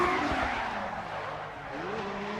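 A drift car skids wide through an outer zone during a qualification run at a drifting event in Raubichi, with a loud, sustained tire squeal over a roaring engine whose pitch rises and falls.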